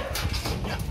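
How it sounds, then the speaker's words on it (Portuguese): Dog bounding and hopping around a backyard, with soft thumps and scuffling bursts close by, a few light whimper-like sounds mixed in over a steady low background. "Esse aqui é o Bito, é o cachorro canguru."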